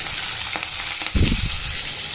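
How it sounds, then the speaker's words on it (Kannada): Green chillies, curry leaves and garlic frying in a pan give a steady close sizzle, with a louder crackling burst partway through. "ಇದು ಸ್ವಲ್ಪ ಫ್ರೈ ಆಗಲಿ"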